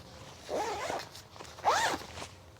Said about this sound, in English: this is a Rumparooz wet bag, and this zipper is very heavy duty.